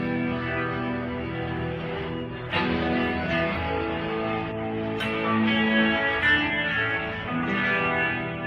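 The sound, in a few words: electric guitar through Univibe and distortion pedals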